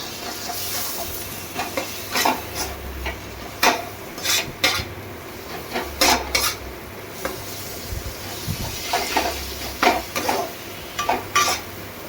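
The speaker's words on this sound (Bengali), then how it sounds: "একটা প্যাকেট পুরো গোঠায় দিয়ে দেব দিয়ে এর সঙ্গে ভালো করে মিশিয়ে নেবো" A spoon stirs and scrapes chana masala through a pan in a home kitchen, with repeated metallic clinks and scraping strokes at an irregular rhythm over a soft background sizzle, close and fairly clear, no talking.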